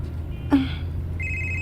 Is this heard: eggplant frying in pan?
no